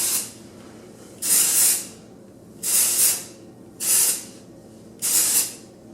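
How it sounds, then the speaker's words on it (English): Texturizing volume spray is sprayed into lifted sections of hair in four separate bursts of hiss, each about half a second long and close and loud, with quiet pauses between them. "So I will go through and lift up sections of my hair and just kind of spray it in there."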